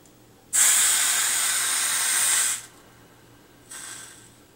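A hot steel ball plunged into water gives a loud, close hiss of steam lasting about two seconds, followed after a pause by a shorter, softer second hiss.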